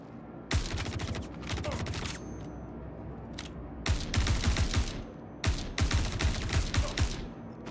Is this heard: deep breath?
no